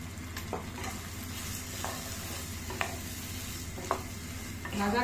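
Cashew and poppy seed paste sizzling in a kadai, a steady frying hiss under a few soft stirring clinks and scrapes, close and fairly even throughout.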